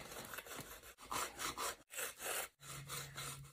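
Repeated rough scraping strokes, about five back-and-forth passes of bone ground against rock, close up with brief pauses between.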